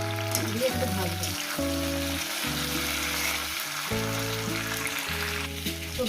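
Vegetables frying in a pan for a chachchari of potato, flat beans, eggplant, bori and pea shoots, a continuous soft sizzle beneath a looping melodic music bed, no speech.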